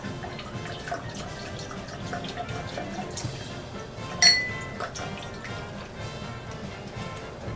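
Whiskey pours and trickles into a glass, with a sharp clink partway through and light dripping sounds around it.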